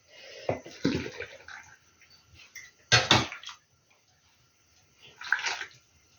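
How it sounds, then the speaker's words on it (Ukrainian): Several short splashing pours of hot water into jars of marinated zucchini, close up, separated by quiet pauses. "я знову буду заливати цією гарячою водою"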